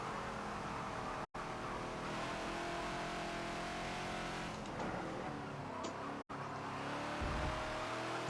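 A Ford Falcon XB race car in the Forza video game laps Homestead Road Circuit, its engine droning loudly and steadily with rising revs, two abrupt gear-change cuts and a brief tire squeal near the end.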